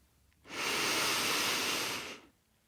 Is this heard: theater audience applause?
no